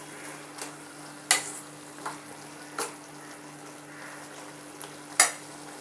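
Mushrooms sauté over a high flame for mushroom dosa: a faint, low sizzle beneath a steady hum, broken by a few sharp spatula taps and scrapes against the pan at irregular intervals.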